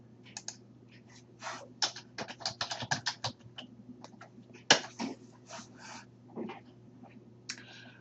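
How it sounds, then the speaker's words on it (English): Typing on a computer keyboard while a name is entered into a text field, a run of quick, light key clicks in uneven bursts with short pauses, close and fairly quiet over a faint steady hum. "Click into the white space and then begin typing the name of your submodule."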